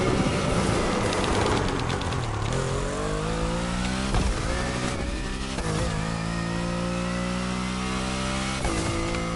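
A tuned Porsche in the racing game The Crew Motorfest, its engine revving hard with a rising, whining supercharger note, climbing through gear changes at full throttle, loud and close.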